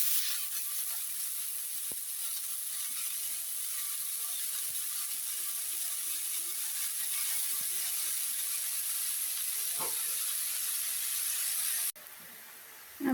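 Sweet potato greens dropped into hot oil in a wok give a soft, steady sizzle and hiss throughout, with a few faint clicks, before the sound cuts off abruptly near the end.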